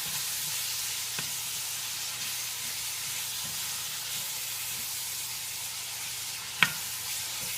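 One small diced onion frying in a pan for a squash and zucchini casserole, a steady soft sizzle and hiss throughout, with a couple of faint utensil taps and one sharp clink near the end.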